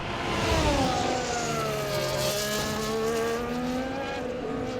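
A Formula 1 car from the EA Sports F1 game at Singapore's Marina Bay street circuit, its high-pitched engine droning loudly and steadily with slowly shifting revs, close and continuous, with no talk.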